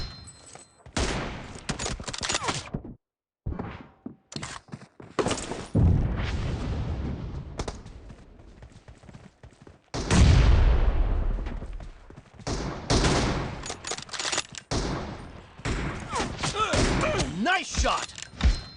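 Bursts of video game gunfire crackle through a shootout in a warehouse map, with rapid automatic volleys and heavy single shots separated by short silences, mixed with announcer-style voice callouts.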